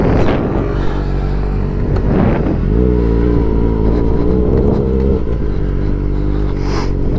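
A kid's small motorbike engine revs loudly and close, a buzzing drone that climbs and dips in pitch as the throttle opens and eases during the ride, with no talk.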